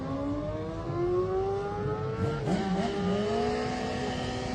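Racing motorcycle at the Manx Grand Prix Senior race pulls a wheelie as it accelerates hard away from the start line, a loud rising engine whine climbing through the gears, with a brief burst near the middle and steady crowd-area roar behind.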